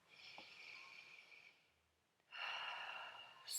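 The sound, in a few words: deep breath in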